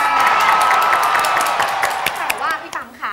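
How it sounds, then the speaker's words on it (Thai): Children applauding and cheering together on a Thai kids' programme, a dense, steady wash of clapping with excited shouts mixed in, loud and close throughout. "ปรบมือ"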